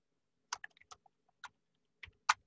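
A command is typed on a computer keyboard: a handful of sharp, close key clicks come in small irregular bursts, with quiet gaps between them and no voices.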